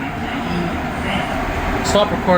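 Steady rumble and hiss of a Montreal STM metro train in motion, heard from inside a car on the last run before service pauses during a transit strike, with continuous low-frequency roll and a brief brighter squeal near the end.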